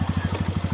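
Motorcycle engine idling at night on a forest road, a steady rapid pulsing chug repeating evenly up close, alone with no voices.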